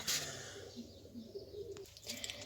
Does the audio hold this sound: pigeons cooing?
yes